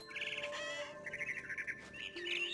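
Bird squawks and chirps in the video game What Remains of Edith Finch, a series of short, bright calls in bursts over a steady ambient background, with no speech.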